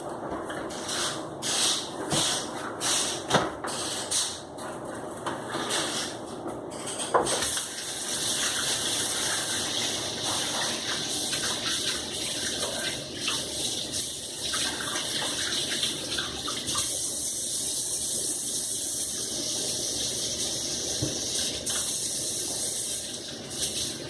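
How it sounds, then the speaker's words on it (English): A sink tap runs in a steady close gush while hands are washed under it after mixing flour and eggs, with splashing and rubbing early on, then an even continuous flow. "I'm going to quickly wash my hands."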